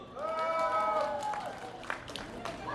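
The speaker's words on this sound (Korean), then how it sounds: "잘했다. 박수!" Audience clapping and crowd noise at a dance festival in Sincheon-dong, mixed under a loud, excited host's voice announcing on a microphone, with scattered claps toward the end.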